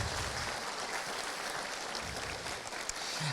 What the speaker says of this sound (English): Could we have a round of applause for him and his staff?